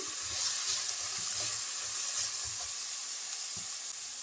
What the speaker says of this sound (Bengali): আলু এবং গাজর আমি এক মিনিটের মতো ভেজে নিয়েছি